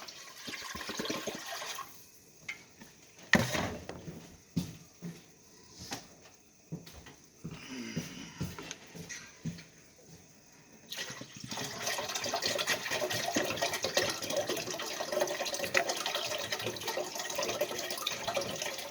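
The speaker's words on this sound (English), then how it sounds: "pour it right onto these dishes and get this sink kind of not completely filled up" Boiled hot water is poured onto dishes in a kitchen sink with no running water, giving intermittent splashes and knocks at first, then a longer steady pouring and gurgling rush toward the end.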